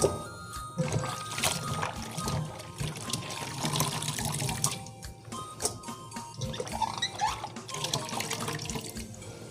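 Water splashes and runs while squeezed mustard greens are rinsed by hand, with uneven sloshing bursts and dripping, close up.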